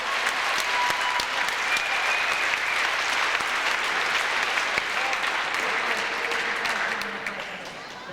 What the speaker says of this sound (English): A good round of applause for the league champs, the Suns